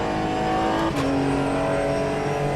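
A race car engine in the video game Assetto Corsa EVO holds a steady, loud drone alone throughout, with a brief shift in pitch near the one-second mark before settling into a smooth, even tone.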